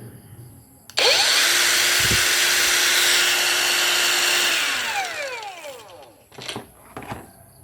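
A cordless Makita-battery drill whirs loudly at high speed for about four seconds, then winds down, followed by a couple of short bursts.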